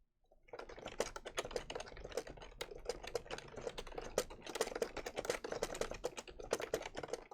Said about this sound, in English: I should probably mute myself. You don't want to hear me typing.